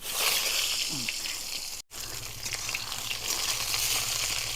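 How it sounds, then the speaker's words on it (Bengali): Steamed eggplant slices fry in hot oil in a kadai on an earthen stove, a steady hissing sizzle broken by a brief dropout, with a faint voice in the background. "ভাপার বেগুনগুলো ভেজে নেবো"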